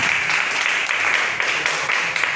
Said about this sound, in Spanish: ¿Le puede dar un fuerte aplauso al Señor en esta hora?